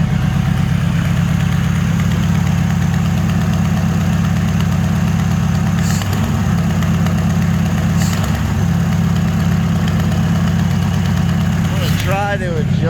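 A car engine with Holley EFI Sniper fuel injection in an S10 idles steadily and loudly up close, a continuous low throbbing rumble with a slight rhythmic pulse, while a person talks over it.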